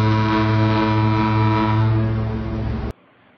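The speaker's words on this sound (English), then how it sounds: "Yes, I think it's a foghorn." A foghorn sounds one loud, deep, sustained blast with a rich, steady buzzing tone that holds for about three seconds before cutting off abruptly, leaving only faint background noise.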